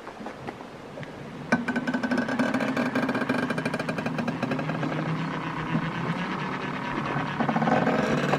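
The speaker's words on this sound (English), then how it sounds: "Let me start spinning the wheel here." A homemade water wheel spins an alternator, giving a steady whirring mechanical drone with a rapid rhythmic clatter that starts abruptly and keeps running loud and close throughout.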